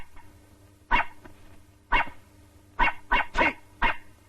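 A dog barks six times in sharp, close bursts, spaced irregularly with short pauses between, over a quiet indoor background with no talking.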